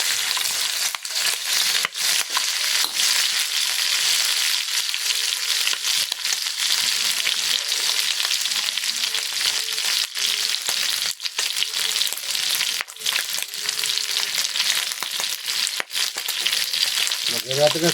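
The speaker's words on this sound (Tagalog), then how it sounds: "Sinitso na yung ricado ng pare ko." Tomato, onion and ginger sauté in a pan with a loud, continuous sizzle, broken by occasional stirring scrapes, close and without talk.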